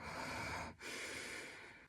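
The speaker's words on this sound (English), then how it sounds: "rib breathing," Rib breathing demonstration: a close, steady airy breath sound, a long inhale with a brief break near the middle before the flow resumes and slowly tapers, no talking.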